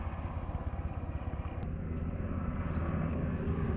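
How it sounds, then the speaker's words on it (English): A helicopter flying low and circling a neighborhood: loud, low rhythmic rotor chopping drones overhead continuously, a heavy pulsing engine roar that stays close and steady. "Helicopter flying so low."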